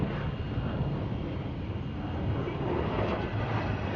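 A train rolls over a man lying beneath it on the track, a loud, close, continuous rumble of wheels and cars that holds steady throughout.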